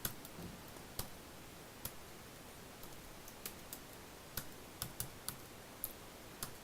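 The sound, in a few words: pressing keys on a MacBook keyboard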